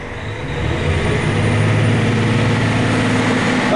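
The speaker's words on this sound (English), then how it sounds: "if you push the throttle all the way forward, will go up to a maximum of about 2200 RPMs" A Versatile tractor engine runs up under full throttle toward about 2200 RPM, a steady loud diesel drone that swells over the first half second and then holds constant at close range.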